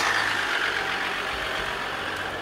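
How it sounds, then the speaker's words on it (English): A 2014 Ram 1500 EcoDiesel pickup's diesel engine runs with a steady, even hiss and low rumble, moderately close, unchanging throughout and with no voices. "All right, Nathan, I'm not sure you're going to hear a lot coming out of a diesel engine"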